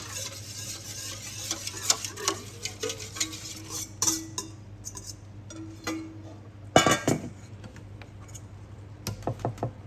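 Quiet scraping and clinking of a utensil against a pan as a thick green pandan flour mixture for Thai lod chong dessert is stirred over low heat, with scattered louder knocks.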